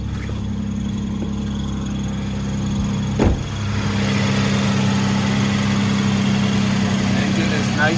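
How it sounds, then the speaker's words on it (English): A car engine idles steadily after a cold start, parked in neutral with the parking brake on, a low, even hum close by with a brief bump partway through. "Engine is nice and solid."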